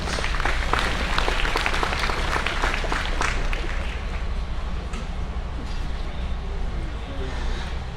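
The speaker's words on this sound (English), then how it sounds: "Let's give these reserve champions a big round of applause." Crowd applause for reserve champions in the goat show ring at a livestock show, a steady wash of clapping from many hands that fills the whole stretch over a low rumble of arena noise.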